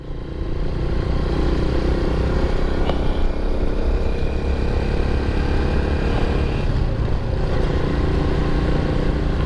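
Honda TMX motorcycle engine running steadily on a cold mountain highway, a continuous loud mid-pitched drone with wind rush and clatter throughout, no voices.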